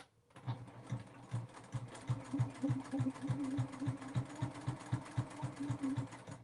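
Sewing machine stitching fabric for a double pocket folder bag, a close, steady mechanical chugging of rapid, regular needle strokes that starts abruptly and runs evenly throughout, with no talking.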